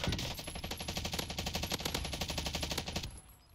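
Automatic gunfire in Warzone, a sustained rapid rattle of closely spaced shots, loud and near, cutting off abruptly before the end.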